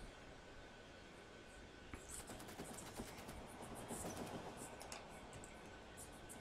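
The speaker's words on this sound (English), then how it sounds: "Ooh, the train came back." A train in the factory-building game Factorio pulls in and unloads, giving a soft rolling clatter with rapid clicking bursts that build in the middle and ease off, fairly quiet and free of talk.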